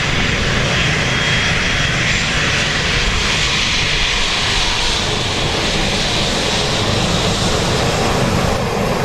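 A Pegasus Airlines jet at Dublin Airport roars loudly and steadily from start to finish, its engine noise filling the whole stretch with no speech over it.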